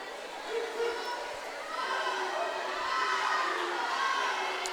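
Swim teammates at a girls' high school swim meet cheer from the pool deck, a steady wash of young voices rising and falling in rhythmic chants over an indoor crowd murmur, moderately distant.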